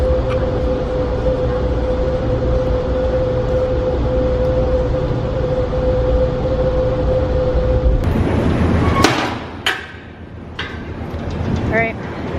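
A steady low rumble and hum inside a moving passenger train bound for Ottawa, continuous for several seconds, then shifting to clanks and softer noise near the end.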